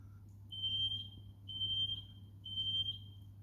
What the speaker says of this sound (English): It's the alarm from the knackered house next door.